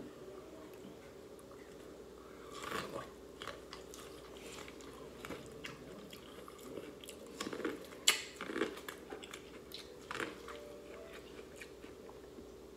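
Someone bites and crunches into buttered corn on the cob, giving irregular close crisp crunches and chewing with faint cutlery clinks, mostly without talk.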